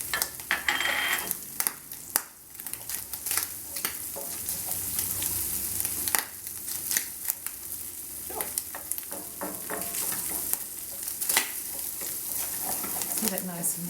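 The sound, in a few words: garlic frying in a pan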